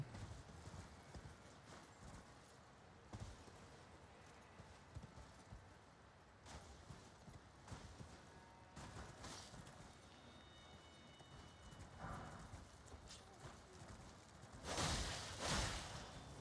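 Rhythmic hoofbeats of a horse galloping in the video game Elden Ring: Shadow of the Erdtree clip-clop steadily through most of the stretch, with a couple of louder whooshing bursts near the end.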